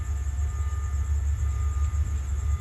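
A long Thai southern-line passenger train, number 172 with extra carriages added, arriving at Surat Thani station at night: a loud, continuous low rumble with a steady mechanical drone, close by.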